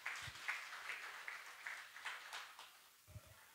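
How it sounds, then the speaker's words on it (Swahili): A church congregation applauds during a Sunday sermon, a faint, distant wash of clapping that runs steadily throughout, with a few soft low thumps near the start and end. "Mpe Yesu makofi mazuri kwa ajili ya hayo."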